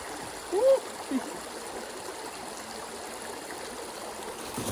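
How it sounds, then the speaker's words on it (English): A forest stream flows steadily in winter, a soft continuous trickling and gurgling wash heard from nearby, with a couple of faint brief sounds near the start. "it's not a river, it's a stream"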